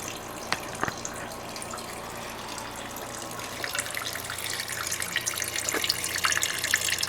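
Dark fluid draining steadily from a Massey Ferguson lawn tractor into a pan, a soft continuous trickle and splash with a few faint drips, close and fairly quiet.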